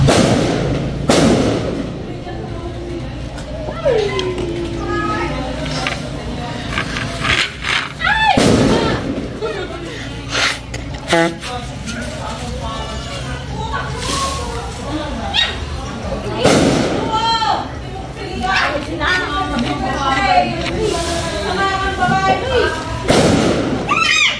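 Loud firecracker bangs go off irregularly during a Reyna Elena street parade, several sharp cracks and thuds over lively chatter and shouting voices nearby.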